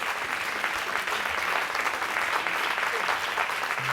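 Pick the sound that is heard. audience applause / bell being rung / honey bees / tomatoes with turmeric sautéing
audience applause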